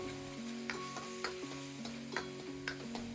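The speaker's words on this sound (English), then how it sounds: "toss in the minced garlic, stir it around for 30 seconds" Minced garlic stirred through browning pork in a hot pan for mapo tofu, a steady sizzle broken by repeated scraping strokes of the spatula, close up with a faint tone humming underneath.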